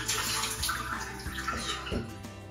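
Water is splashed onto the face to rinse off a carbonated foam cleanser. Soft, close splashes and trickling repeat in a loose rhythm, with no talking.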